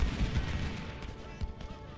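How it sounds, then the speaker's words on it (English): Musket fire from Civil War infantry in the strategy video game Ultimate General: Civil War, a rumbling spread of distant volleys with several sharper cracks, under low background talk. "Then we'll start firing to this flank."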